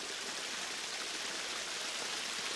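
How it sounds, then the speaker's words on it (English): Water cascades over a waterfall in the volcanic Daylesford region of Victoria, Australia, a steady, dense rushing roar that fills the whole moment without pause. "They cascade over waterfalls, Trentham, Sailors and the Loddon Falls."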